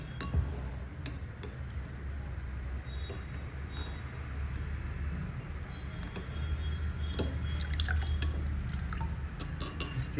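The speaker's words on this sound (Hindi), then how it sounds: "उसके बाद अपन डालेंगे SLES।" SLES liquid is poured into a rust-removal mix, making a steady close trickle and gurgle of filling liquid with a few small drips and clinks, and no talk.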